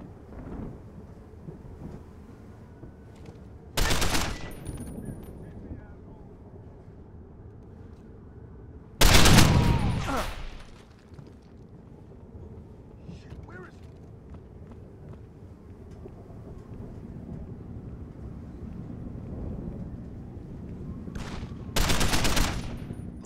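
Gunfire bursts ring out during an assault in the video game Deus Ex: Human Revolution, three loud separated volleys over a low ambient game background with no talking.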